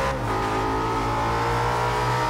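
An Audi RS5 S1 in Forza Horizon 2 accelerating hard, a steady loud engine drone rising in pitch as it revs, close and continuous with no talk over it.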